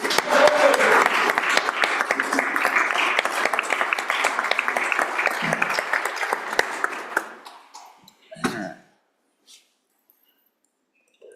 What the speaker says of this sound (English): So one more round of applause for the doc.